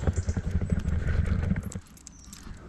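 Horses in a fenced village paddock, hooves clopping in quick near steps for under two seconds before fading to quiet.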